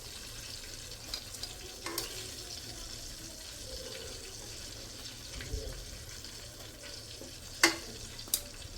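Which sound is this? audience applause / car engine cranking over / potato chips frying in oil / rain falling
potato chips frying in oil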